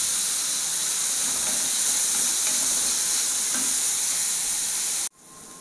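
Sliced onions and bitter gourd with curry leaves sauté in a hot pan for a bitter gourd tamarind curry, giving a loud, steady, continuous sizzle and hiss with faint stirring scrapes that stop abruptly near the end.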